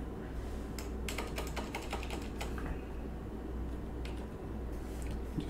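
Fingers tap out a fast run of keystrokes on a computer keyboard at a Windows machine, close and fairly clear, over a steady hum of background noise, then the keys fall quiet.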